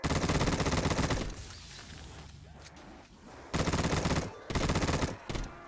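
Rapid automatic gunfire from a weapon in Black Ops 3 custom zombies, the Viking Tower map, loud dense bursts at the start, a quieter stretch, then two more sharp bursts near the end.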